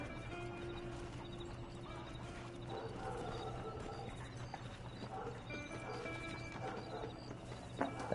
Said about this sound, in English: vou pegar meu cavalo aqui. Bora, cavalo, bora.